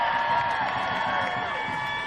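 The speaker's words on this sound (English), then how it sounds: "give her a big round of applause" At an abortion rights protest, a crowd outdoors keeps up a steady roar of cheering and clapping, dense and continuous throughout.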